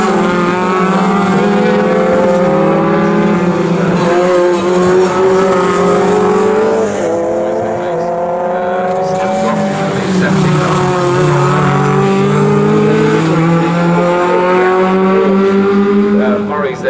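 Two blue Sports 2000 race cars battle on the Snetterton circuit, their engines droning loudly and shifting pitch as they pass close by, with commentators talking over the continuous roar.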